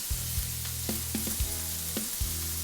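Scallops sautéing in a hot pan, with a continuous sizzle under a low steady hum and several sharp clinks and taps from utensils against the pan.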